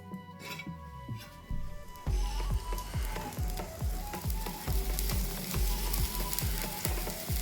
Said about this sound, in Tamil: பாருங்க, தண்ணி நல்லா கொதிக்குது.